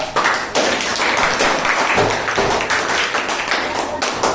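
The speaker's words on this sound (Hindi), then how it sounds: "बच्ची के लिए ताली बजाओ जोरदार" A classroom of students claps loudly for a young girl, a fourth-grade pupil in a maths lesson, with dense, steady applause filling the whole stretch and a few voices mixed in.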